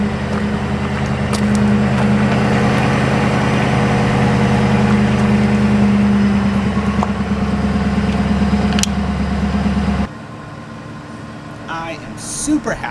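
A Ford Crown Victoria's V8 idles after a fuel pump replacement, a steady low rumble held close for about ten seconds before it drops away to a quieter background, with a voice talking over it.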